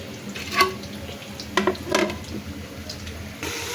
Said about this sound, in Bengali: আমার আলুগুলো কিন্তু খুব সুন্দর করে লাল লাল করে ভাজা হয়ে গেছে